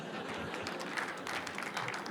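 Audience applause at a poetry event, a steady, moderately faint wash of clapping from a large crowd, with some voices mixed in.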